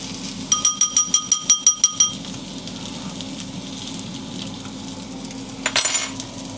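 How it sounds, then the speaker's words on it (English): Oats soaking in water stirred briskly, first a fast run of about nine rhythmic scraping taps against the bowl, then quiet, then a short second burst near the end. "Give it a little bit of a stir up."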